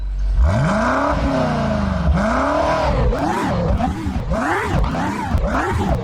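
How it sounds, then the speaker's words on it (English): A sporty exhaust revs hard several times, each burst rising and falling in pitch with a throaty roar, loud and close. "let's take a listen to the sport exhaust on"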